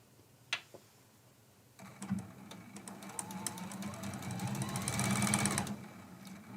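A sewing machine stitches a quilt block along a marked line, starting after a few clicks and a short pause, then running in a rapid, mechanical rhythm that builds in speed before stopping abruptly.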